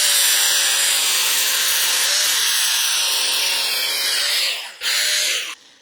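An angle grinder whines loudly and continuously as it cuts down a metal hitch part for a 2018 or later Honda Gold Wing, then briefly dips and stops near the end.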